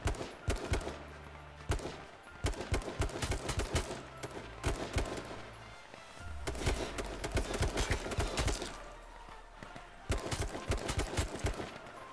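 Gunfire in the battle royale video game H1Z1: repeated bursts of loud, sharp rapid-fire shots with short pauses between volleys, over low engine-like rumble in the game.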